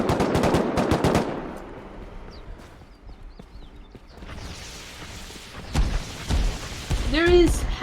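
The machine gun of a Bradley APC fires in the survival game Rust. A fast, loud burst comes at the start, then scattered quieter shots, footsteps and movement follow.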